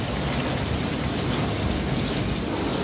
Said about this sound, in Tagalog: Ay, di ko po alam kung may bagyo. May bagyo po eh.